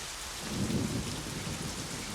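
Steady rain pours down in a dense, even hiss on surfaces, with a low rumble swelling briefly near the start.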